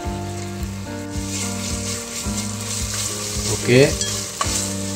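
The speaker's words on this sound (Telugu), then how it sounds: "1 టేబుల్ స్పూన్ అల్లం వెల్లుల్లి పేస్ట్ వేసుకొని కొంచెం ఫ్రై చేసుకోవాలి" Ginger garlic paste frying with onion and chicken legs in a pan for biryani, a steady close sizzle with stirring scrapes throughout and a brief louder hiss near the end; a voice briefly speaks.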